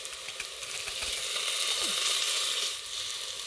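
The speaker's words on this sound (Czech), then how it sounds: "Česnek rychle zarestuji." Pressed garlic fried quickly in a pot for an oyster mushroom soup, giving a loud, close, continuous sizzle that holds steady for a few seconds and then eases slightly, with no one talking.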